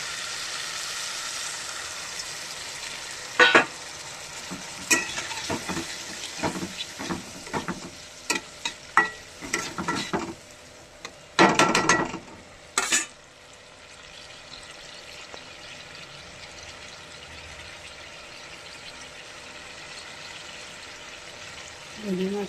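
Shrimp curry in a pan after a splash of water, a soft background sizzle broken by bursts of stirring, clatters and scraping, with one louder spell of spattering midway before settling back to a quiet simmer.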